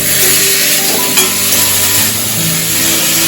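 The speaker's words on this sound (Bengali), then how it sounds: "এবার এটাকে একটু নেড়ে ছেড়ে ভেজে নিতে হবে।" Okra and prawns fry in a pan for a chorchori, a loud, dense sizzle that holds steady throughout, with a faint scrape of stirring partway through.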